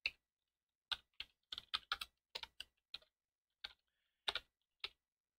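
Someone types a folder name on a computer keyboard, producing crisp, close key clicks in quick irregular clusters with short pauses between them, alone in a quiet room.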